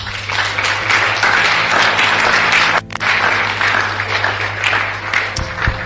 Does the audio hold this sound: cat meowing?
no